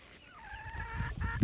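Chicken-like calls with a drawn-out, wavering cluck, close by, over low rumbling background noise.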